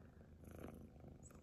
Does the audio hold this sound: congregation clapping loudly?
no